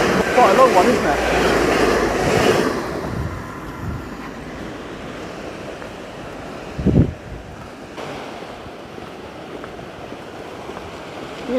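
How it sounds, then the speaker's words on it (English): Sea water rushes and surges against the cliffs at Dawlish, Devon, a loud wash of surf at first that settles into a steadier roar mixed with wind buffeting the microphone and one brief thump. "Yeah, some rushing water"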